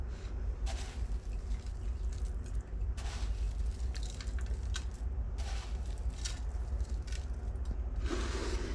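Cooked noodles and shredded cheese are stirred in a pot, giving soft, wet squishing and scraping sounds that repeat in an uneven rhythm up close.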